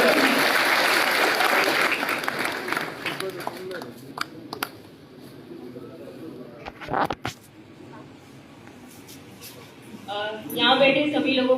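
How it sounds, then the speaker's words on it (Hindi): An audience at an award ceremony bursts into loud, sustained clapping for Mamta, then it thins to scattered claps and fades as a voice begins speaking. "एक जोरदार तालियां ममता के लिए"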